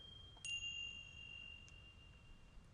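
Little chimes sample from a bowls instrument app, one light metallic ding with a thin ringing overtone that fades slowly, faint and alone against low background hiss.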